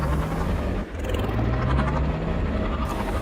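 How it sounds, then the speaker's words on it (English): Jet engine roar in a space-flight video game, a dense continuous rumble with steady tonal hum and a brief dip near one second, loud and filling the whole stretch with no talk over it. "So very cool jet sounds."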